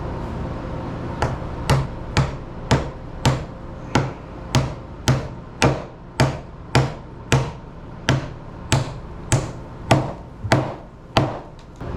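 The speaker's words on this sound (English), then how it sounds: "Brought nails and a hammer" Steady hammer blows strike nails at an even pace, about one per second, each a sharp close knock with a brief ringing tail.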